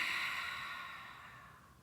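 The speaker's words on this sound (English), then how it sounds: "exhale, let it out." A deep exhale through an open mouth during a yoga breathing practice: one long, close, airy breath that starts strong and slowly fades over about two seconds.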